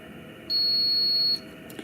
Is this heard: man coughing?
no